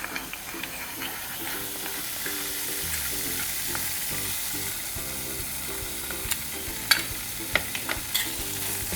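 Apple pie filling for a homemade McDonald's-style apple pie is stirred in a pan, a steady soft sizzle with scraping spoon strokes and a few sharper clinks against the pan, close and continuous.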